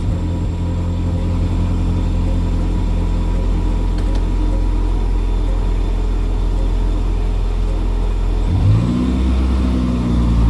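A 1989 Chrysler LeBaron GTC turbo engine runs at a steady, loud idle with a deep, constant drone, then shifts tone near the end as the revs change slightly.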